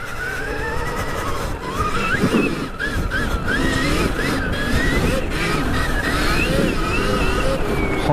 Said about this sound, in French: j'adore entendre le pneu là déraper